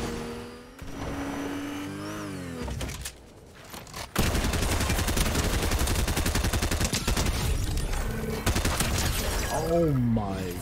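Rapid SMG fire in a video game, dense bursts of fast automatic shots running loud and continuous through most of the stretch, with a short lull early on and gameplay effects around it.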